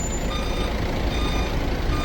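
Heavy traffic noise on a crowded road on the route to Bethphage during Holy Week, with a steady low diesel rumble of buses and trucks and a faint repeating reversing beep, continuous and fairly close.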